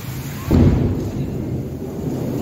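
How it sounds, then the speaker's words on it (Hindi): A loud crack and deep rolling rumble of thunder breaks over heavy rain, then fades into a long low roar with steady rainfall beneath, close and without talk. "बहुत ज्यादा बिजली कड़क रही है"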